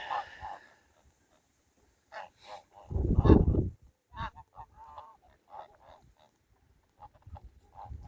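Domestic geese of a heavy breed honk in several short bursts, one louder burst in the middle, nearby outdoors while grazing, with quiet pauses between calls.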